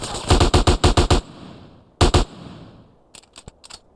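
AK rifle fired in GTA San Andreas: a loud rapid burst of about seven shots, a short pause, a quick double shot, then a scattered volley of fainter, more distant shots.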